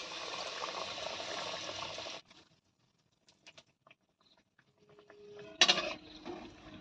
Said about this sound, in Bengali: তেলটা গরম হয়ে গিয়েছে তেলে ছেড়ে দেবো